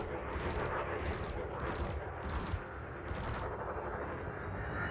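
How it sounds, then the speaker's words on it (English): Rapid cannon fire in the space game Elite: Dangerous pounds out in dense repeated bursts, loud and close, with a rumbling engine-like roar underneath throughout. "What's the effective range on these cannons?"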